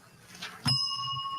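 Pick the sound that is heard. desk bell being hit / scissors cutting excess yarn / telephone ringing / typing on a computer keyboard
desk bell being hit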